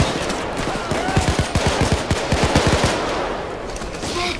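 Rapid automatic gunfire from a weapon with a 20-round magazine in the video game Payday 2, loud close bursts of shots repeating steadily for about two seconds before stopping.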